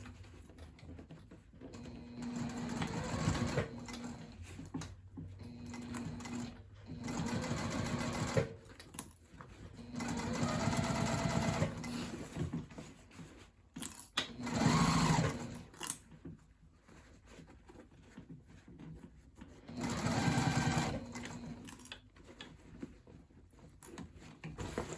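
A sewing machine stitches a tote bag with a recessed top zipper in several separate bursts of running, each a close mechanical whir, with quiet pauses between them.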